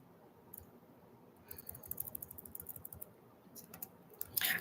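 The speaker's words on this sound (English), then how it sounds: "I'm typing." Someone types on a computer keyboard in quick, faint clusters of light clicks, pausing briefly, then tapping again with a louder burst at the end.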